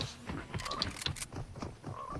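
A frog in the video game Fortnite croaks in a few short, faint bursts over quiet game ambience, with no talking.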